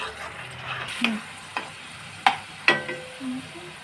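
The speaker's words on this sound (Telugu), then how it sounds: "ఇదిలా ఫ్రై చేసుకుంటే బాగా బాగా వేయించుకోవాలి పచ్చివాసన పోయేంత వరకు వేయించుకోవాలి" Vegetables fry in a pan for a veg liver curry, with a soft background sizzle and a few sharp scrapes and taps of a spoon stirring, close by and without speech.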